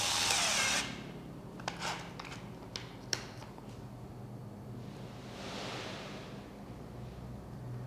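A Tekiro DC-HD2047 cordless drill fitted with a drill bit runs in a loud whirring burst at the start, followed by quieter handling clicks and taps and a soft rushing noise.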